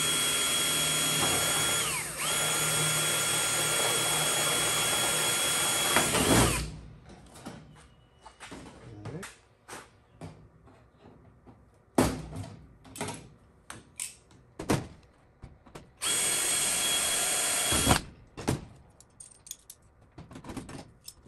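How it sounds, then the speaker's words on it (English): A small power drill with a number 40 bit whines in several bursts drilling holes, some long and some short, with clicks and handling noises in the pauses between. "This is just a number 40 drill to start with."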